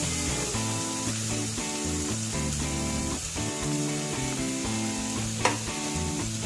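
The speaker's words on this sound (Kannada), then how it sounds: "ಹಸಿಮೆಣಸಿನ್ಕಾಯಿ ಮತ್ತು ಈರುಳ್ಳಿ ಹಾಕೋಣ." Onion and green chili fry in a pan for vermicelli pulao, giving a steady close sizzle with faint stirring and one brief sharp clink.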